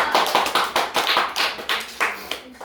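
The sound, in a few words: applause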